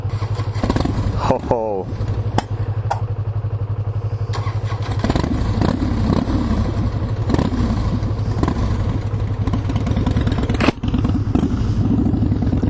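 A Yamaha YZF-R3 motorcycle engine is started, catching after a brief crank and then settling into a loud, close, steady running note with a few clattery knocks and blips, while a person makes a short vocal exclamation.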